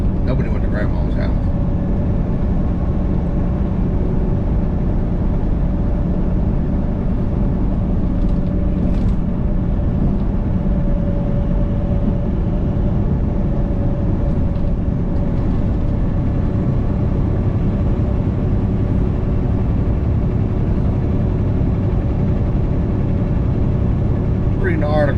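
Steady engine and road rumble from inside a car driving on a Virginia road in light traffic, a continuous loud drone with no pauses.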